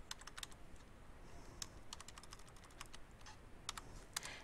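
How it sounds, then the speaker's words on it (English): Computer keyboard typing, brisk clusters of light key clicks in irregular bursts with short pauses, close and clear over faint room noise, with no one speaking. "the first thing you're going to do is you're going to type your information for the postcard on this side"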